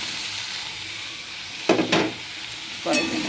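Ivy gourd (kundri) pieces tipped into a pan with turmeric and chopped tomato, sizzling steadily in hot oil, with a few brief louder hissing bursts as they are stirred; no voices.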